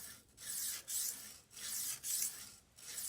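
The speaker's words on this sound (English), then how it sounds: "And I really enjoy sharpening knives." Fillet knife drawn across a Lansky medium 280 grit sharpening stone, producing close, hissing rasping strokes in a regular rhythm of about five passes with short gaps between them.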